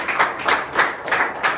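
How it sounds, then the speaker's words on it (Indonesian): A classroom of students claps for a group in a quick, loose rhythm, with five or six clustered bursts of hand claps close by and fairly loud. No talking is heard over them. "tepuk tangan untuk kelompok 1"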